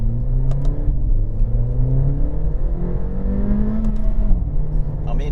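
A Mercedes-Benz A45 AMG in manual sport mode accelerating hard on a road, with the engine note rising through gears in a continuous loud drone from inside the cabin.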